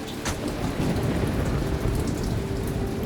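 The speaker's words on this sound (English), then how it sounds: "Who the fuck just gets out into rain like that?" Steady, dense rain pours down in a TV drama scene, a constant close hiss of drops on surfaces with a faint low rumble beneath and no voices.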